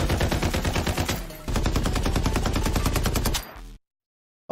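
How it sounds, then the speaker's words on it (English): A BAR 95 rifle in a video game fires rapid automatic bursts, loud and close, in two long rattling strings with a brief pause between, then cuts to silence. "In the next update, the audio of the AK-77 and Bar 95 will be updated."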